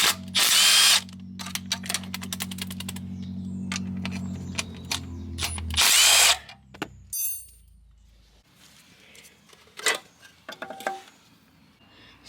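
A hand ratchet loosening the fuel pump and camshaft bolts on a car engine makes loud bursts of rapid clicking, with long steady runs at the start and near the six-second mark, then scattered single clicks and clanks of tools.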